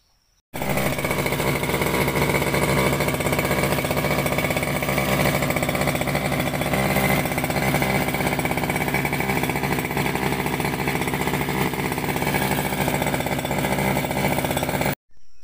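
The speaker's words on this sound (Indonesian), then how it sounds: "cara membuat mata bor dengan menggunakan mesin rumput." A small two-stroke grass cutter engine driving an auger drill runs at a steady high rev, loud and close, droning continuously with a harsh buzzing tone before cutting off abruptly.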